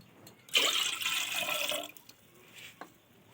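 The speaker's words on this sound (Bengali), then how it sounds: "দু বাটি অনুযায়ী জল দিল" Water is poured into a cooking pot to start sugar syrup for potato rosh bora, a steady splashing stream lasting over a second, then a few faint drips and clinks.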